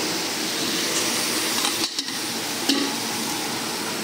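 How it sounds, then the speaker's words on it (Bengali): Lentils and rice being stirred in a hot pan over already fried ingredients, a steady close scraping and sizzling texture that carries on throughout, with a few brief knocks of the utensil and no talking. "এটাকে ভালো করে নেড়ে চেড়ে জল দিয়ে দেবো"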